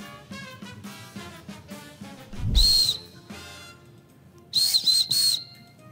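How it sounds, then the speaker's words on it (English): A shrill 3D-printed whistle blown up close, one blast followed by three quick bursts, with a faint background hum. "It is a 3D printed whistle"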